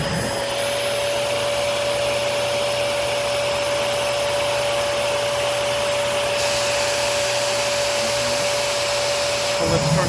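A Eureka Optima 431BX upright vacuum cleaner runs steadily throughout, a loud, close, continuous whine and roar with a strong motor tone and no talking.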